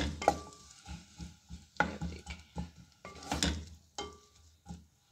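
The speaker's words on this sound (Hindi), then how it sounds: "उसके अंदर हम लोग जो है प्याज ऐड करें, छोटी प्याज हमने ऐड कर दी। इसको हम लोग हल्का गोल्डन करेंगे।" Small onions cook in hot ghee while a spoon stirs them in the pan, giving close, repeated scraping and clattering strokes in an uneven rhythm over a soft frying hiss.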